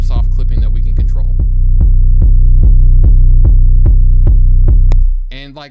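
A hip hop 808 bass line with soft clipping hits about a dozen times in a steady, punchy rhythm, each note booming loud and warm with a sustained low tail; a brief voice cuts in at the very end.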